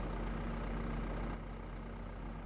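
Tractor with a rear mulcher idling in Farming Simulator 25, a constant low engine rumble that drops slightly in level partway through, no voices.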